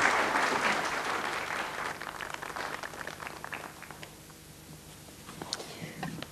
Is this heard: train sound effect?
no